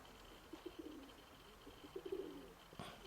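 Pigeons cooing near a house in winter, a few soft throaty coos in two short bursts with a faint rustle near the end, quiet and alone.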